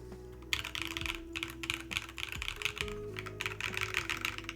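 Rapid typing on a custom mechanical keyboard, a dense stream of crisp clacky keystrokes at close range with steady rhythm and no speech, a low tonal hum sitting underneath.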